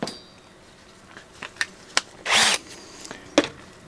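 Reverse drill bit, 11/64 inch, boring into a broken screw stuck in the muffler stud of a Homelite chainsaw, heard as several brief grinding bursts and one longer whirring run, close by with no talking.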